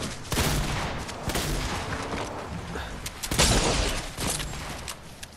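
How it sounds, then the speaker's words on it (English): Rapid bursts of gunfire from a Fortnite match crackle in loud, repeated volleys, with a heavy cluster near the start and another later on, set against dense game noise. "I'm getting shot."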